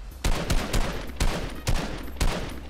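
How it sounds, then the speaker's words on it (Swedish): Gunfire in the video game Fortnite comes as a rapid series of loud, punchy shots, roughly five or six bursts at an uneven rhythm close to the player. "Jag missar alla skott."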